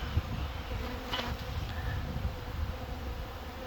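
Dense, steady buzzing of many bees close by at the hive, a continuous drone with some wind rumble underneath.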